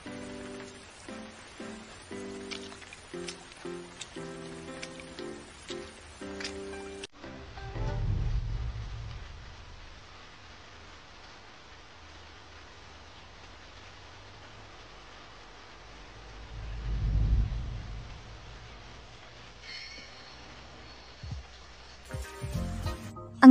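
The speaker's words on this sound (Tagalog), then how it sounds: "Ang lakas ng ulan." Steady soft hiss of rain falling on surfaces, with two low rolling swells that may be distant thunder. The sound stays fairly faint and there is no talk.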